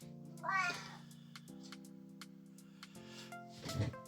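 A house cat meows close by, two distinct calls, one near the start and one near the end, with a steady low hum in the room behind.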